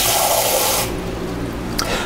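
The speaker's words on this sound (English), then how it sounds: "Just put some water into those, and that way they're filled and the heat helps to distribute around the whole complete tin." A brief rush of water runs into empty muffin tins, a broad hissing pour that cuts off after about a second and leaves a low room hum.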